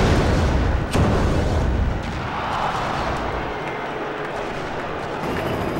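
A laser-guided rocket explosion in the vehicle combat game Crush Hour bursts loudly at the start, a sharp crack near one second, then a broad rumbling roar that settles into a steady, slightly quieter wash of noise.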